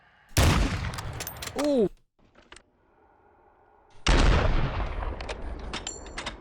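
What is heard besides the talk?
gunshots in video game Warzone 2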